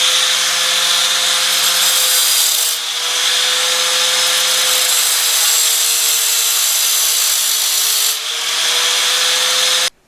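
A 4.5 inch angle grinder with a cutoff wheel slices into a steel socket while making a tool for a 1973 Honda CB750 clutch job: a loud, sustained high-pitched whine and rasp with two brief dips, then it cuts off abruptly.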